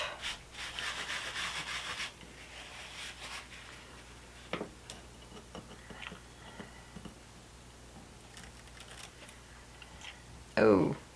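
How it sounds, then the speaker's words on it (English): A dry towel rubbing excess mica powder off polymer clay gives a soft brushing scrape for about two seconds, followed by faint sparse rustles and taps. "I'm going to use just a dry towel to kind of get some of that excess"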